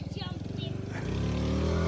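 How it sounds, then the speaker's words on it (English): A small Yamaha YFZ 50 ATV engine revs up from a pulsing idle to a higher steady drone, close by, with a voice speaking over it. "you can hear the motor as it revs, it moves"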